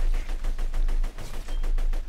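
Corrosive assault rifle in Borderlands 2 firing in rapid bursts, a loud close string of punchy shots with a brief gap midway, no talk over it.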